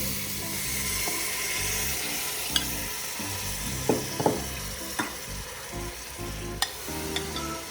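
Broccoli stir-frying in a pan for vegetable khichdi, a dense continuous sizzle over a low pulsing hum, broken by several sharp spoon clicks and scrapes against the pan.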